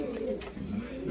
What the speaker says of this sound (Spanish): esos son pichones que hay